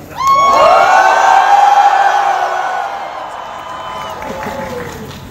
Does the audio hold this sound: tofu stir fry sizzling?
no